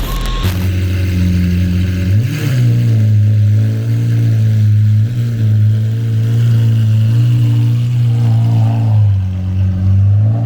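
A Terradyne armored vehicle's engine idles with a deep, loud rumble close by, then revs up sharply and holds a steady heavy drone for several seconds, with no voices.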